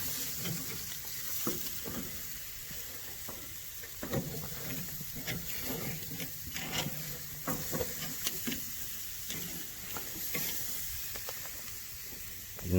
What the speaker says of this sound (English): 4 slabs of ribs cooking at the same time